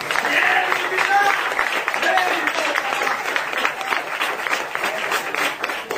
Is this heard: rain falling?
no